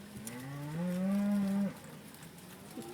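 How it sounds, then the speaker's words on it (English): A cow in a long herd on a cattle drive in Colorado lets out a loud, drawn-out moo, with fainter bellows from other cattle before and after it against an outdoor background. "There's no end in sight to this herd of cow."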